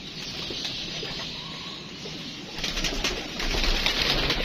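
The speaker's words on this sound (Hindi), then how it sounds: "अच्छा कबूतर है जी दोस्तों" Soft pigeon cooing low in the mix over steady outdoor background noise, with louder rustling toward the end.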